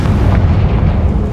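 A Confringo fire spell explodes in Hogwarts Legacy, a loud, dense rumbling blast that fills the short moment with sustained low booming and crackle.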